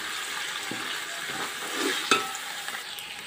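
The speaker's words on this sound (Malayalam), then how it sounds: "ഇപ്പോൾ ഈ ചിക്കൻ ചേർത്തിട്ട് നമുക്ക് ഒന്ന് ഇതൊന്ന് ഇളക്കി കൊടുക്കാം" Chicken being stirred into sizzling biryani masala in a pan, a continuous close fry hiss broken by scraping strokes and a sharp clack of the spoon near the end.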